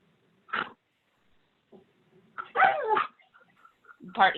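A dog barks and yips a few times nearby in short, separate bursts between quiet gaps, heard on a webinar call's microphone.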